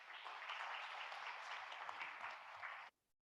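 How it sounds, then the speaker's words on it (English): Audience applause at an award ceremony for young business disruptors, a steady, fairly faint wash of clapping that holds for about three seconds, then stops abruptly. "Please give him a bigger round of applause."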